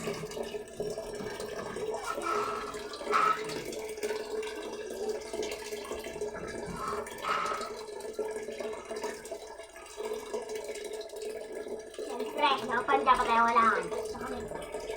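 Water runs steadily from a tap into a tub, a soft continuous stream heard nearby while people talk and briefly laugh over it.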